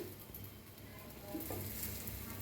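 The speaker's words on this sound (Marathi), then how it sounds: "तवा चांगला तापलाय, ब्रेड लावून घेऊया" Bread slices toast on a hot buttered tawa over a gas flame, giving a faint, steady sizzle that holds evenly for the whole stretch.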